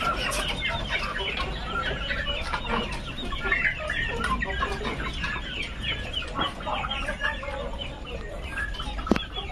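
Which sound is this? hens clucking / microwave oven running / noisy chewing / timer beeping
hens clucking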